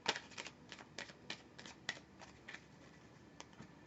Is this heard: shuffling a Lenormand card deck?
yes